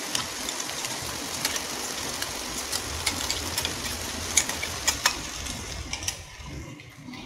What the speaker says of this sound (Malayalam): അപ്പോൾ തേങ്ങ ചേർത്തതിന് ശേഷം ഇത് നന്നായിട്ടൊന്ന് മിക്സ് ചെയ്ത് കൊടുക്കാം